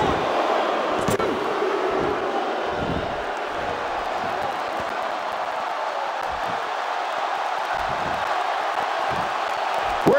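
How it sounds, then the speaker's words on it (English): Roaring arena crowd at a WWE 2K16 wrestling match, a dense, continuous wash of cheering and shouting with a few sharp knocks and slams breaking through, steady in level from start to finish. "you can bet this crowd is fired up for this match"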